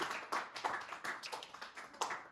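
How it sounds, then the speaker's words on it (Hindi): A small group of schoolchildren claps in a science class, the individual hand claps distinct and uneven, fairly faint and close, with no talking. "बहुत बढ़िया, जोरदार तालियां"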